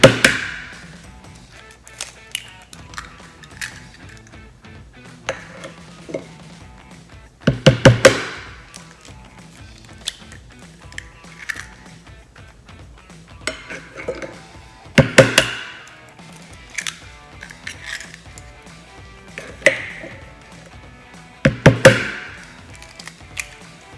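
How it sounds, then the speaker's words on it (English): Eggs being cracked one by one for a cheese flan, with sharp knocks against a hard edge at irregular intervals, several in close clusters, followed by quieter shell and kitchen handling noises, all close and no talking. "Then we're gonna start cracking the eggs."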